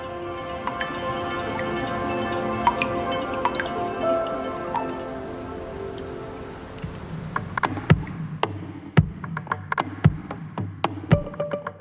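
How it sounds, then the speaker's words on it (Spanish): Water drops from condensed fog fall onto the ground in the Canary Islands, first as soft dripping under a sustained tonal background, then as sharp, irregular, close plinks standing out in near silence. "Estas gotas van cayendo poco a poco al suelo"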